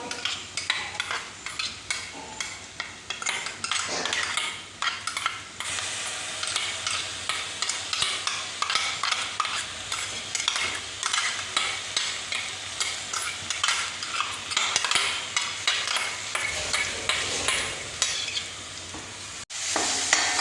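Onion and ginger garlic paste for pork fry stirred and frying in a pan, with a steady loud sizzle and repeated scraping strokes of a spoon throughout, no voices.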